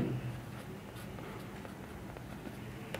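Pen or pencil scratches softly across paper while someone works out a math problem, faint continuous strokes with a few sharper taps, close and quiet over a low background rumble.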